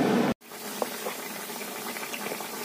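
Papaya pieces simmer in water in a pot, giving a soft, steady bubbling hiss that continues alone after a brief louder burst at the start, with a few faint clinks.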